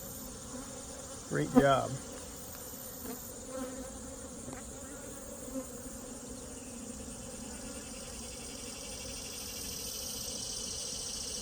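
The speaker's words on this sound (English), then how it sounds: "Lots of young bees in here," Honeybees in a colony being rebuilt, a low steady hum of many wings close by throughout, with a brief louder buzz near the start and a short spoken remark.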